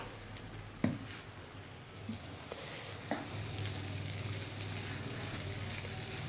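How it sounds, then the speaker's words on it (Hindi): Mash daal (lentils) frying in cooking oil over a medium flame gives a steady, soft sizzle, broken by a few sharp clicks and spatters near the start. "थोड़ा सा कुकिंग ऑयल डालेंगे ताकि दाल को थोड़ा सा और फ्राई कर सकें"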